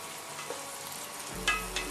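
Tomato cooking down in a frying pan with vegetables: a soft, low, steady simmer and sizzle, with a brief clink of a utensil near the end and no talking.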